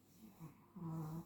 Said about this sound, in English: sorry about the dog snoring.